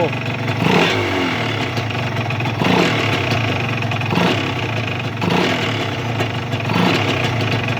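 A Honda NSR150 two-stroke motorcycle engine is revved with the throttle, rising and falling in about four repeated surges over a steady idle, loud and close.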